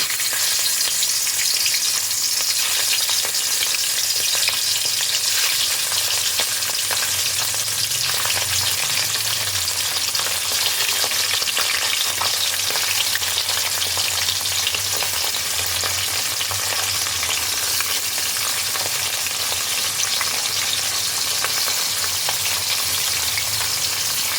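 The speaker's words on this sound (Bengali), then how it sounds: "সর্ষের তেল তেলটা বেশ ভালোভাবে গরম হয়ে গেছে এবার আমি এর মধ্যে এক এক করে ট্যাংরা মাছগুলো ছেড়ে দেবো" Tangra fish sizzles in hot mustard oil, a loud, steady crackling hiss that carries on unbroken for the whole stretch with no talking.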